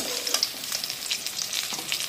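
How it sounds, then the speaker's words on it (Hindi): Pieces of rohu fish fry in hot oil, a bright crackling sizzle with sharp popping spatters, close and fairly loud over a short stretch. "देखिए दोस्तों, दूसरा बैच भी मछली फ्राई हो गया है"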